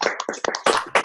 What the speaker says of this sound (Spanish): denle un aplauso a Cristo en esta hora